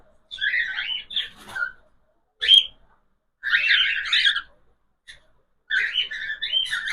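Several adult cockatiels chirping and whistling in bursts with short silent gaps, shrill and close.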